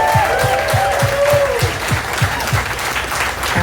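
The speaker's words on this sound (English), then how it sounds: "Let's give our panel another round of applause." An audience at a Farm Aid panel on farmers and climate change applauds the panel in a steady, dense wash of clapping, with a rhythmic low thump running through it and faint voices mixed in.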